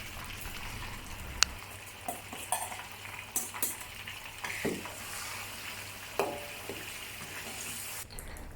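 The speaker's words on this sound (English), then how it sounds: "Let it sizzle for half a minute or until aromatic." Spice paste sizzling in hot oil for a Eurasian Kristang devil's curry (curry debal), a steady frying hiss with scattered stirring clinks and scrapes, no talking.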